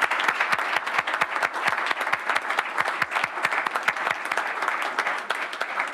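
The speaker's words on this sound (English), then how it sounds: "let's give him a round of applause" Audience at a city employee longevity ceremony giving a round of applause, steady crowd clapping with sharp, distinct claps from nearby hands cutting through the wash.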